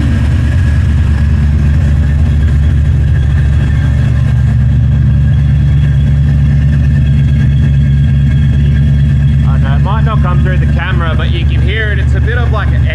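A Holden VC Commodore with a 308 V8 idles steadily and loudly up close, its exhaust sounding tinny and echoey, with people talking over the engine in the later seconds.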